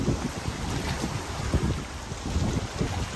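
Wind gusting steadily over open water at Sherman Island, a loud continuous rumble and buffeting against the microphone with faint wave sounds beneath and no talk.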